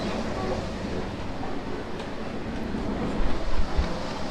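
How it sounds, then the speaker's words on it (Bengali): Inside the Nakshikantha commuter train from Khulna to Dhaka pulling out of Mobarakganj station, a broad steady rumble and rushing noise builds, with a few clunks near the end. "আমাদের ট্রেন চলতে শুরু করেছে"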